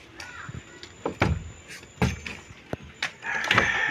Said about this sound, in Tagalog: Sinaraduhan po ni Kinsley ang pinto.